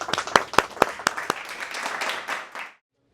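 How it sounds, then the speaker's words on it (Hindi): Audience applause at a talk on digital content writing, a burst of sharp, close claps that settles into steady clapping from a room of people and then cuts off abruptly. "ताली।"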